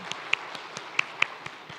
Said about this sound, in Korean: 우리 주님께 박수를 올려드립니다.